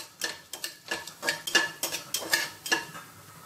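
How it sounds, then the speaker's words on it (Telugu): Whole mustard seeds, cumin, coriander seeds and fenugreek frying in hot oil in a pan, heard as a steady run of light crackles and a dozen or so clear scraping strokes as the spices are stirred close by; no voices. "నూనె వేడెక్కింది ఇప్పుడు ఇందులో కొద్దిగా ఆవాలు అలాగే కొద్దిగా జీలకర్ర అలాగే ధనియాలు మెంతులు వేసుకొని వీటిని కొద్దిసేపు ఫ్రై చేసుకోవాలండి"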